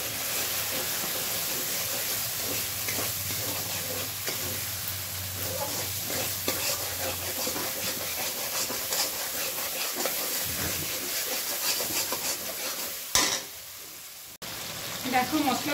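Spices fry in oil for a fish curry, giving a steady, fairly loud sizzle with stirring scrapes. A sharp clatter comes near the end.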